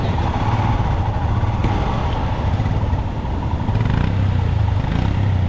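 A motorcycle engine runs at steady revs while the bike pushes through a water crossing in Ladakh, a loud, close rumble with clattering and splashing underneath, and no clear speech.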